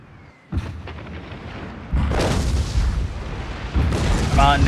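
Naval artillery gunfire in War Thunder, with heavy booming blasts hitting at intervals over dense rumbling battle noise, loud and close throughout.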